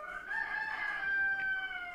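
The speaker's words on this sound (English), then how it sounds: "when the rooster stops crowing." A rooster on an egg farm crows once in a long, drawn-out call that rises and then trails off, heard at a moderate distance in a quiet setting.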